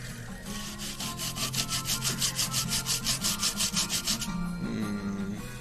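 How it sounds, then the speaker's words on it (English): A brush scrubs dust off the pins of an electronic control circuit board in quick, steady back-and-forth strokes, close and fairly loud, before a brief pause near the end. "We're gonna scrub out some pins."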